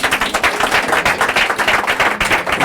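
A church congregation bursts into dense, sustained applause and cheering, loud and close, with rapid overlapping claps filling the whole stretch and no pauses.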